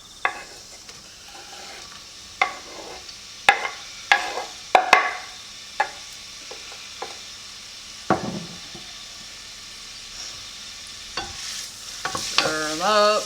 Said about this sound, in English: 2 tablespoons of oil. Don't use olive oil. Indian cooking doesn't use olive oil. Yeah, hot already. And put the onions in.